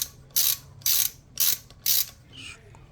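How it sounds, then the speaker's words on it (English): A ratchet tool working screws out of the brake cover on a 2005 Bentley Continental GT: four crisp ratcheting bursts in a steady rhythm, close up, then a faint softer click. "to take out the screws holding the extra cover before we get to the bolt"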